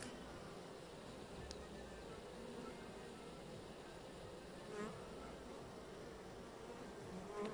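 Honey bees cluster outside a crowded beehive in hot weather, making a faint, steady, continuous buzzing hum that carries on with no break.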